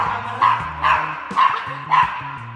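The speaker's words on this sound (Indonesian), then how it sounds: "Jangan gonggong ya." A dog barks in four evenly spaced, loud, close yaps, with low rumbling background noise between them and no talking over the barks.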